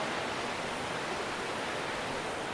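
Water rushes steadily at a waterfall campsite, a constant even wash of noise with no voices over it.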